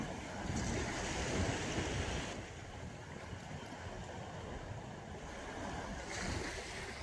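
Ocean surf rolls onto an empty shore on a cold, cloudy day, a steady wash of waves with gentle surges and fades, mixed with some wind noise on the microphone.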